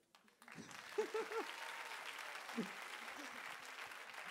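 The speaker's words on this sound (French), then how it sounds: "Quand vous applaudissez, il faut vraiment applaudir." Applause from an audience at a 2019 talent show builds after a quiet start and carries on steadily, with a few voices calling out briefly within it.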